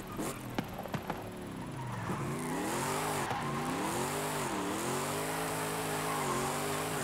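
A supercharged wagon muscle car in Forza Horizon 5 roars steadily at high revs for several seconds, its engine pitch rising and falling through gear changes, with a few sharp clicks and tire noise early on.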